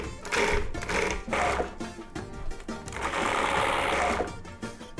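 Electric mixer whipping goat cheese with creme fraiche, olive oil and salt, a loud motor whir in bursts that settles into one longer steady run.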